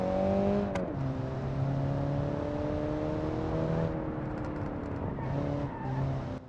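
A 1950s roadster engine drones steadily on a test track in the video game BeamNG, tyres squealing through corners, with the engine note shifting between gears and no talk over it.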